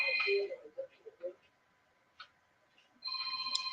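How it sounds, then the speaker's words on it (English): Telephone ringing in a small shop with repeated bursts of electronic ring at the start and again at the end, near and fairly loud, with women chatting softly in the background. "Oh, there goes the phone again."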